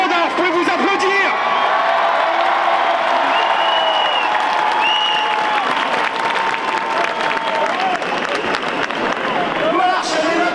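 A large crowd at a street march against Islamophobia in Paris applauds loudly, with dense clapping mixed with cheers, whoops and chanting voices throughout.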